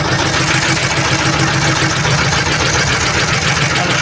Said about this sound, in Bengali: এখানে এনারা দুইজনে মিলে নৌকাটা চালাচ্ছে,